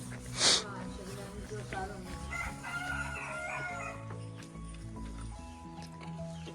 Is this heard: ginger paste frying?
no